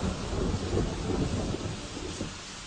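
Heavy rain pours steadily while a low thunder rumble rolls underneath, loud and close.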